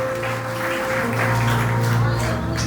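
A church congregation applauds in a steady, dense wash of claps over a sustained tonal hum, with some voices mixed in.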